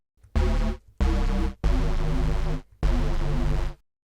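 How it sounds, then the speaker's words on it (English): Reese bass synth patch in Ableton Live, a detuned, buzzy low bass played as four sustained notes separated by short gaps, loud and alone with no talking. "the first bass that I'm going to add is this Reese sound."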